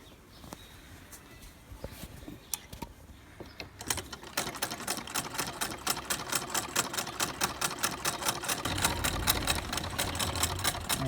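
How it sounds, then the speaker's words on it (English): Sewing machine running in a steady rapid rhythm as it stitches the seam along the two sides of a homemade fabric bag, starting with a few brief bursts before settling into continuous close stitching. "we're going to sew our bags, the two sides of the bags."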